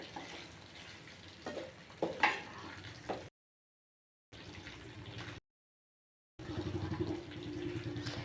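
Dry-style sukha chicken sizzles softly in a pan with a little oil and no added water, scraped and turned by a stirring spoon in short bursts, with brief silent gaps between passages.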